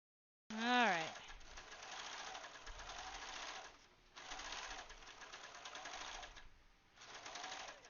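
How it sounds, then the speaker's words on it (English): An overlock sewing machine stitches fabric in several whirring runs separated by brief pauses. It sounds close and steady, and a short high chirp is heard right at the start. "Yay, overlock machine."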